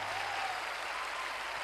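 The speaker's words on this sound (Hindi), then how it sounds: "जोरदार तालियां बजाइए देवेंद्र शर्मा जी के लिए, जोरदार तालियां बजाइए दोस्तों।" Faint, steady audience applause at a business motivational talk in India, a dense wash of distant clapping with no speech over it.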